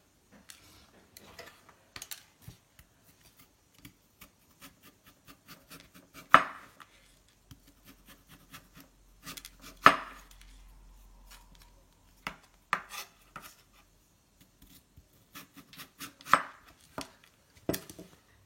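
A knife slices a potato thinly in a quiet, irregular series of crisp cuts, with three louder chops standing out and soft clicks between.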